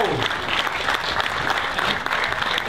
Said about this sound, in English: please, round of applause for these 2 guys